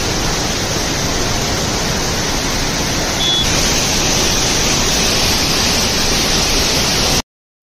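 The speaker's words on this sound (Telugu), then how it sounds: "కెంప్టీ వాటర్ ఫాల్స్ ముసారి దగ్గర ఉంటుంది" Kempty waterfall near Mussoorie roars as a loud, dense, unbroken rush of falling water close by, steady from start to finish with no talking, then cuts off abruptly at the end.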